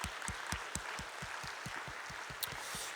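A church youth-group congregation claps in a steady, even rhythm, somewhat distant and soft, with a few sharper claps standing out above the room.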